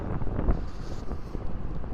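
A headwind buffets the microphone while riding an electric mountain bike down a long, gently descending straight, a steady low rushing roar with gusty swells and no talk.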